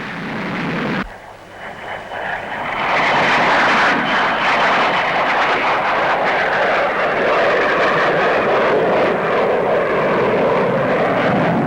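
A de Havilland DH-112 Venom jet flies past at the Farnborough airshow, its engine swelling into a loud, sustained roar that holds steady after a brief dip, with no voices.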